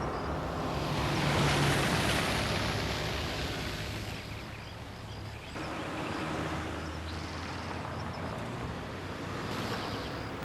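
A river flowing behind a temple, a steady broad rush of water, loud and continuous like surf, with wind noise and no talk.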